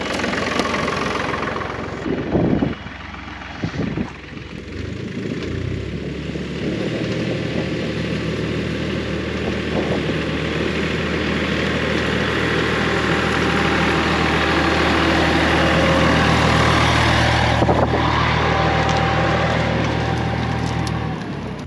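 An orchard tractor engine runs steadily nearby, a low droning rumble with some clanking and knocking early on, holding at a fairly loud, even level.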